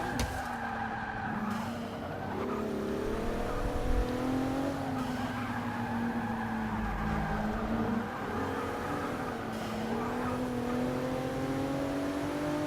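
A race car's engine drones continuously through Forza Motorsport 6 gameplay, pitch rising and falling through gear changes and cornering, with tires skidding and squealing throughout at a steady, moderate level.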